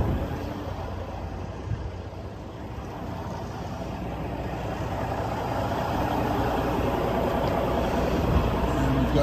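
A 2000 Kenworth W900L truck engine idles while warming up, giving a steady low rumble that holds evenly throughout and grows slightly louder toward the end.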